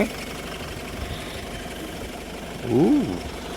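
A low, steady engine idle of a large Mahindra car rumbles throughout, with a brief voice rising over it near the end.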